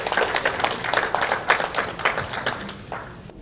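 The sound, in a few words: audience applause at opening ceremony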